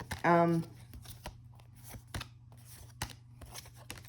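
Tarot cards are riffled and tapped in quick, crisp bursts, close and quiet, after a brief voiced sound at the start.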